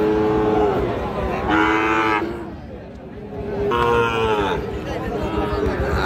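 Sahiwal breed bull calves lowing at a weekly cattle market, two loud, drawn-out moos close by against crowd murmur and someone talking.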